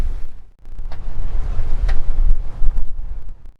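Gusty wind buffets the microphone aboard a sailboat running downwind, with loud low rumbling surges that rise and fall. A brief lull comes early, then steady roaring gusts return, with water and hull noise faintly underneath.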